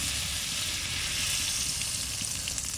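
White cooking oil and butter sizzle steadily in a pan, a constant close hiss with faint crackling and no voices.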